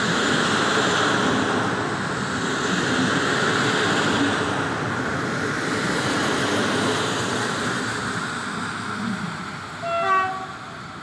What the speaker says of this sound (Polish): Wjeżdża pociąg osobowy relacji Mińsk Mazowiecki, Warszawa Zachodnia.